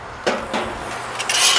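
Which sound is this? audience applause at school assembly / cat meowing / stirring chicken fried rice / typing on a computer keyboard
stirring chicken fried rice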